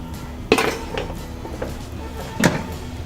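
Coated chana rattles in a metal air fryer basket during a light shake, with two clanking jolts about two seconds apart and a softer rustle of the chickpeas between them, close and without talk.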